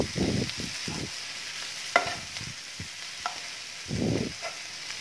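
Stirring and mixing a dry potato and capsicum (aloo shimla mirch) sabzi with tomatoes and green coriander in a pan, a spatula scraping in repeated short strokes over a soft background sizzle, with a couple of sharper clinks.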